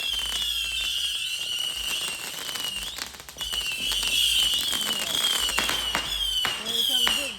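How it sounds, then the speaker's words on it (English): Fireworks set off at night crackle and pop in rapid clusters with sharp bangs and whistling streaks, fairly close, while people talk and cheer over them. "Those remind me of the fireworks at the end of every Mario level."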